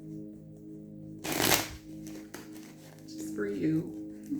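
A short burst of tarot cards being shuffled, a crisp riffle lasting about a second, with soft tones lingering in the background.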